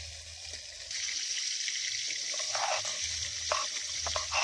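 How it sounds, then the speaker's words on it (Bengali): Prawns frying in a pan, a continuous moderate sizzle with a few soft stirring and utensil clicks toward the end, no talking. "মাছগুলো ভাজা হতে থাকে"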